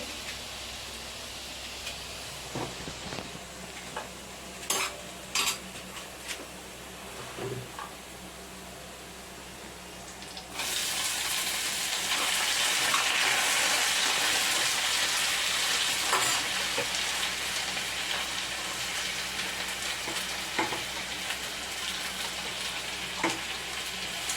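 Pointed gourd and potato pieces sizzle and fry in a pan, quieter with occasional stirring scrapes at first, then a louder, dense steady sizzle for the rest.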